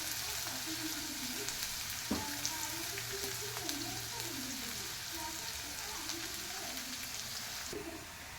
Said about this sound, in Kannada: ಗೋಲ್ಡನ್ ಕಲರ್ ಫ್ರೈ ಮಾಡ್ತೀನಿ ಈರುಳ್ಳಿನ.